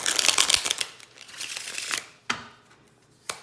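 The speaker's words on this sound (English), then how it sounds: "I feel the need to shuffle just one more time" Playing cards being riffled and shuffled, a dense crisp flutter for two seconds followed by two sharp snaps as the deck is squared, close and alone.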